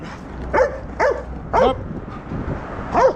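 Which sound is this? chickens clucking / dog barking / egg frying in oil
dog barking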